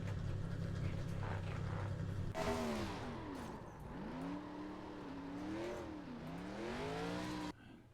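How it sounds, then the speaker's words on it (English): A 2003 Gen 4 Ford Taurus stock car in iRacing revs hard and close, its engine note repeatedly climbing and falling through gear changes, loud and unaccompanied by voices. "Enjoying the sounds, enjoying the beast that was the Generation 4 race car."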